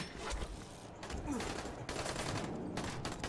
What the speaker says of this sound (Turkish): Kanka, o kadar mermi atmana gerek yok